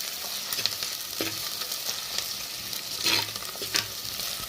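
Masala of poppy seed, ginger and small onion paste fries in a pan with a continuous crackling sizzle, nearby and moderately loud, broken by short bursts of stirring and spatula scrapes.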